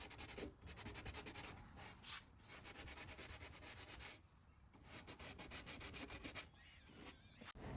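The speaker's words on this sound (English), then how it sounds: "I do prefer hand sanding with the net discs over regular sandpaper" Hand sanding of wooden trim on a cedar chest with pliable mesh net sanding discs, a steady close rasping rub in quick back-and-forth strokes with brief pauses, no voices.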